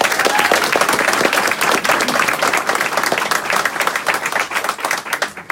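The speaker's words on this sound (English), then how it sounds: "Ladies and gentlemen, big round of applause for the board." Audience applause for the board of the Annapolis Royal Library and Community Hub, a loud, dense burst of many people clapping, sustained throughout with a slight rise and fall in intensity.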